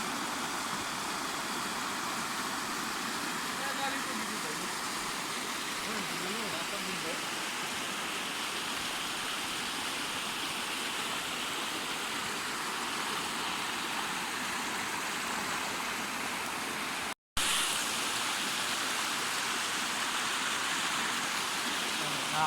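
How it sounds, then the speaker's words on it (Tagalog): Steady broadband rush of a waterfall and flowing water at an eco park, continuous and fairly close, broken by a single abrupt instant of silence near the end, with faint voices now and then. "Nakaka-relax yung tunog ng tubig"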